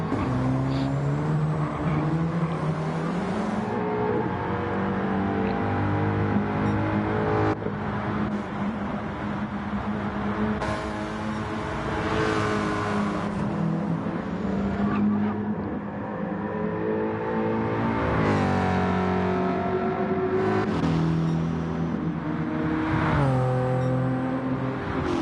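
Touring race cars lapping Laguna Seca in a PlayStation racing game, engines revving loud and continuous with repeated rising and falling gear-change sweeps as they push through corners and the kink, no talk.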